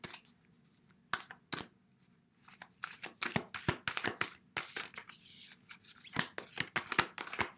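White light oracle cards are shuffled by hand up close, crisp riffling bursts and slaps repeating in quick irregular bunches after a brief quiet pause, with no talking.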